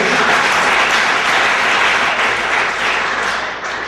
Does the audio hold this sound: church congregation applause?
yes